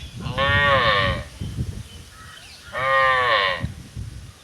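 Cows at a family home during the Maattu Pongal cattle festival give two long, loud moos close by, separated by a short pause with soft background noise.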